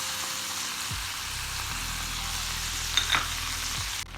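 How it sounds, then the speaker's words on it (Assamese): Chilli and tomato sauce stirred into frying prawns over a low flame, a soft continuous sizzle with occasional spoon scrapes and a low steady hum underneath. "চিলি আৰু টমেটো সস ভালকৈ মিক্স কৰি দিছো"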